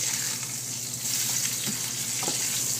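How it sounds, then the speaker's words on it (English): A chicken cutlet fries in a pan of hot cooking oil over fairly high heat, giving a steady, close hissing sizzle that fills the moment without talk, with a couple of faint pops. "you can throw it in your pan filled with some cooking oil at a somewhat high heat"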